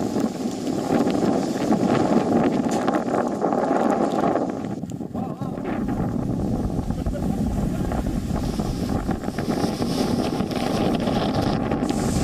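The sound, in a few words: strong wind during Cyclone Tauktae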